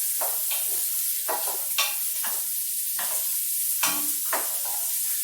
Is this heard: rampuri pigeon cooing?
no